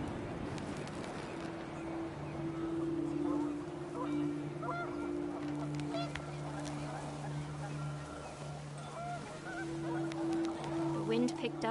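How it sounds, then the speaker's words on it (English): Geese honking in a panic, repeated harsh calls rising and falling over a low rumbling background, fairly close and persistent, with talk mixed beneath. "panicked geese appeared and quickly went"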